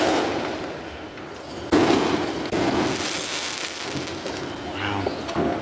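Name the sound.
Fourth of July fireworks shooting up and popping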